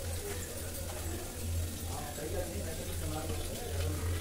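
Water drains out of cooked lentils in a steady, close trickling flow with a low hum underneath.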